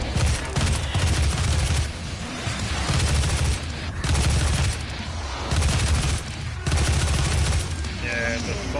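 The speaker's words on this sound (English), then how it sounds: "Got a heavy assault rifle, looking pretty bomb, looking pretty cool." Heavy assault rifle fire from the UAC resource operations stage of DOOM, with loud bursts of automatic shots in repeated volleys over dense game action and heavy low rumble.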